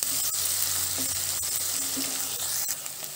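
Ingredients fry in a hot pan for Rayalaseema-style uggani, giving a steady, close sizzle with a few sharp scraping stir clicks and no talking.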